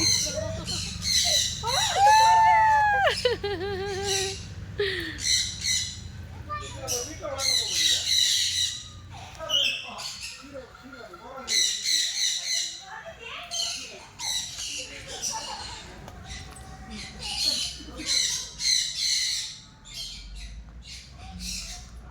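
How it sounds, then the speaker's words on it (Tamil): Loud, harsh squawks from a large multicoloured macaw in Ooty, coming in repeated bursts close by, with children's voices and chatter mixed throughout. "பஞ்சவர்ண கிளி."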